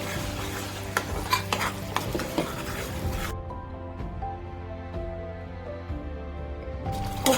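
Tomato puree hits hot oil in a pan for a spicy Punjabi chicken curry gravy, giving a steady close sizzle with a spoon stirring and scraping, louder at first, then a softer continuous fry.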